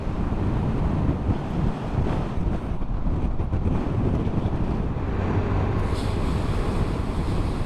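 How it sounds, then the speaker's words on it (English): Steady wind buffeting a microphone on a motorcycle tour in Norway, a constant loud low rumble with no pauses. "Oh, it's breezy on here."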